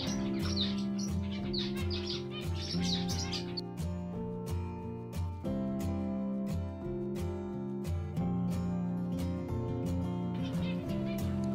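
Exotic zebra finches, including crested and pied birds, chirp and peep in a busy overlapping chorus at close range, with steady background noise and no talking.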